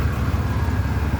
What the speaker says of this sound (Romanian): Auzi ce mașină.